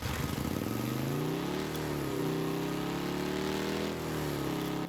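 A car engine from the video game Rocket League drones steadily and loudly, its pitch sliding gently up and down through the whole stretch.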